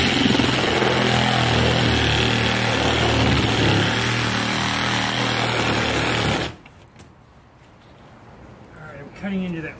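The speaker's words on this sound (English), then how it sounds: "let's see how this goes with the Sawzall" A Sawzall reciprocating saw buzzes loudly and continuously as it cuts into an old shed's door frame, then stops abruptly after about six seconds, leaving quieter room sound and a brief voice near the end.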